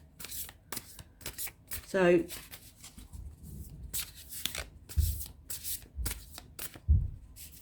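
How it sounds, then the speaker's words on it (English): Tarot cards are shuffled close by in brisk riffling bursts, with a short spoken word and a few soft thumps between the shuffles. "one more shuffle"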